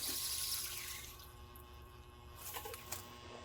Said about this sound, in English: So I'm gonna turn the water off.